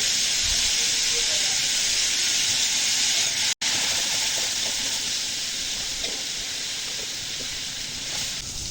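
Spice masala with chili powder and cumin powder fries in a pan, giving a steady, loud hiss that runs continuously for several seconds with one brief dropout midway and no talk.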